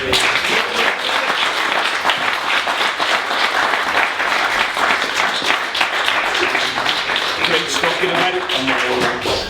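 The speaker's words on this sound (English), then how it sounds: "I want a big round of applause here today for Ben, for Gareth and Martin" A live podcast audience gives a loud, sustained round of applause and cheering, dense clapping filling the room from start to finish as a voice speaks over it.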